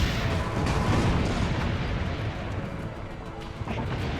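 Heavy booming blasts of cannon fire in Assassin's Creed Brotherhood roll together into a dense, rumbling barrage, loud and continuous, with no clear gaps between shots.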